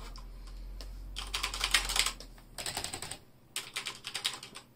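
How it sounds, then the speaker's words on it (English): Cherry MX switches on a mechanical keyboard with a stainless steel finish, typed in several fast runs of crisp, close clacking keystrokes separated by short gaps, with a low hum underneath at first. "Ah, the sound of Cherry MX."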